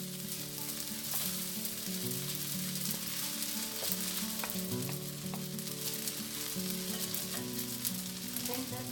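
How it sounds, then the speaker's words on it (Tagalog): Bihon noodles being stirred in a pan for bihon guisado, a constant loud sizzle of frying with occasional light scrapes and taps of the utensil, no talk. "Haluin lang natin mabuti. Mix it very well."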